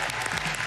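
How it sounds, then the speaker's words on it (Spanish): A brief burst of dense audience applause at a televised talent-show audition, steady clapping heard alone for under a second. "¡Aplausos!"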